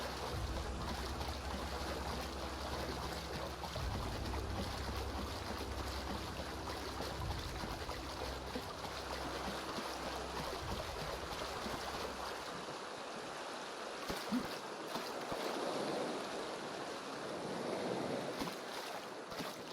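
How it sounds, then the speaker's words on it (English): Rushing water and breaking waves in the video game The Outer Worlds, a continuous dense wash of surf and flowing stream that stays loud throughout, easing slightly in the low rumble partway through. "The water is so amazing in this game."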